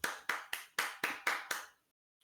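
Seven crisp, evenly spaced hand claps for a guest speaker at a workshop, close and loud, then a sudden stop into silence.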